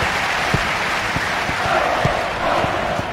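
A stadium crowd in the video game FIFA 2000 cheers and applauds as a European Champions Cup match gets underway, a dense continuous roar with scattered thumps and claps, loud and steady.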